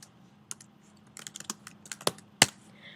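Computer keyboard typing, a short quick run of close, crisp key clicks with uneven rhythm and a couple of louder strokes near the end, over a faint low hum.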